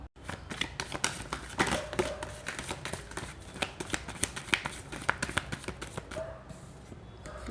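Tarot cards being shuffled, a dense run of quick papery riffles and taps going on steadily and close throughout, with no voice over it.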